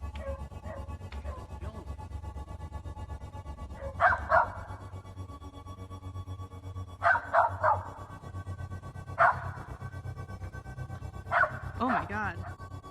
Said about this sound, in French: Leur chien aboie sur cette forme et semble lui aussi intrigué.